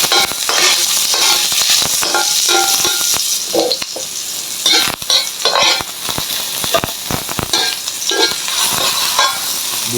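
Garlic fries and sizzles loudly in a hot pan for escabeche, a dense steady crackle broken by repeated scraping stirs and clinks of the utensil against the pan.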